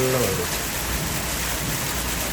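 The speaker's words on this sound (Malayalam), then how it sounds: "നല്ല അടിപൊളി മഴ കിട്ടി" Heavy rain pours down in Saudi Arabia in a dense, steady hiss, with a brief voice at the very start.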